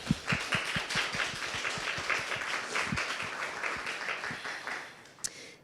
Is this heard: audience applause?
yes